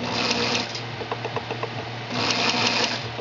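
An Elna Star Series 62C sewing machine runs steadily up close, its cam stack clattering in a rapid rhythmic whir with faint knocking ticks from play in the middle stretch.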